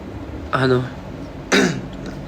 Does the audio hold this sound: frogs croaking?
no